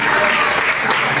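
Church congregation applauding during a sermon, a dense, steady wash of clapping that fills the whole short stretch at close range with no pause.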